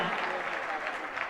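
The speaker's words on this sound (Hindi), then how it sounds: "जरा तालियां जोरदारी से बजनी चाहिए।" Applause from an audience at an award ceremony at M.D. Jain College in Agra, a steady dense clapping texture held throughout the short stretch.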